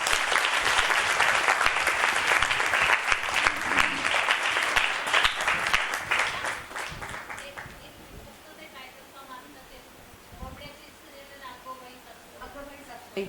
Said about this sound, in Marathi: एकदा आधी जोरदार टाळ्या झाल्या पाहिजेत